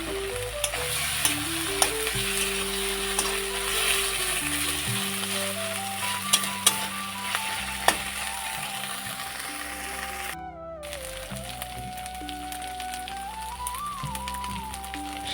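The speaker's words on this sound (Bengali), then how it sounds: "হালকা করে মশলাটা ভেজে নেওয়ার পর এখন ভেজে রাখা আলুটাও দিয়ে দিচ্ছি।" Fried potatoes added to a sizzling spice masala in a pan for a Bengali pabda fish dish, a continuous loud sizzle with frequent clinks and scrapes of stirring.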